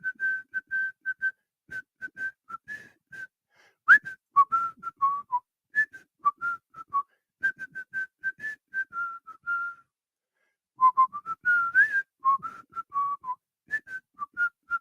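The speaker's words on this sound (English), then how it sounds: "It's time to whistle us out of here for yet another day." A lone person whistles a lively tune to sign off a soccer morning radio show, the melody running in quick, bright phrases with brief pauses, clear and close with no talk.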